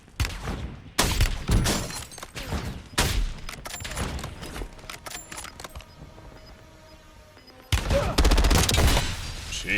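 Gunfire in a battle royale shooter video game, loud sharp volleys of shots in several bursts, close and punchy, with a quieter lull before a final heavy burst.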